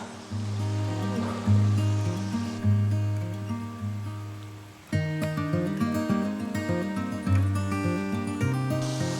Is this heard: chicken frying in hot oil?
no